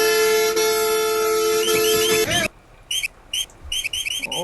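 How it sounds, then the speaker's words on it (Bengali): A bus horn in the Bus Simulator Indonesia video game blares in one long, loud, steady tone, then a few short toots follow in quick succession, with no talking. "যা হর্ন দিয়ে চলে যা"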